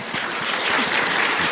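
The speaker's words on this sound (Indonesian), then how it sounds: "tepuk tangan dong untuk Ahilman Bu" Audience applause breaks out at a religious talk on night prayer, a dense steady clatter of clapping that stays loud and even for the whole short burst, with no talk over it.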